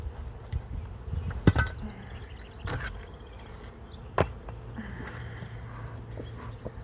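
Honey bees hum around an open hive during a natural beekeeping inspection, a steady low buzz filling the background with a few sharper bumps and handling knocks, no voices.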